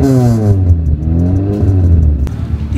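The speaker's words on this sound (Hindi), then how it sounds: "फाइनली गाड़ी स्टार्ट" A newly acquired cheap project car idles loudly and steadily right after starting, its engine note rising and falling with revs and a brief clatter near the end.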